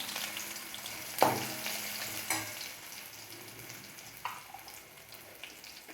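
Mustard seeds and onion frying in hot oil for a masala potato dish, a steady soft sizzle with a few sharp crackles and pops, close and fairly quiet.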